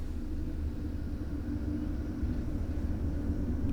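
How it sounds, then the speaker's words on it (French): A truck passes outside, a low steady rumble that holds at an even level throughout, muffled and somewhat distant. "Attendez, là, c'est le camion."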